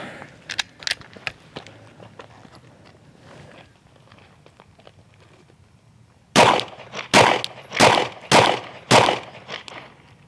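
Glock 19X pistol fired at a shooting range: a burst of five loud, evenly spaced gunshots in quick succession, preceded by fainter distant shots and sharp clicks.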